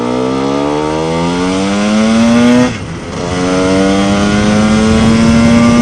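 A Lambretta scooter's small engine, a 260 Simonini in an MMW KillerCase, revs upward in rising pitch, drops briefly as if shifting, then climbs again steadily, loud and close throughout.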